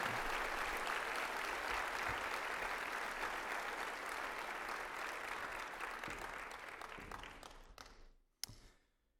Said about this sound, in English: Let's have a round of applause for all of our states and their flags and their representatives